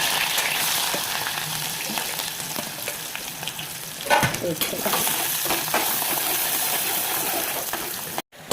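Chillies and curry leaves frying in hot oil for a red curry, a steady loud sizzle and crackle throughout with a brief burst of spattering midway and a short cut near the end.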